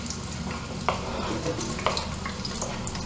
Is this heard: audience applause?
no